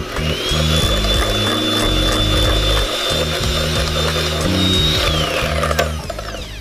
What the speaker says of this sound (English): I'm just using a hand mixer.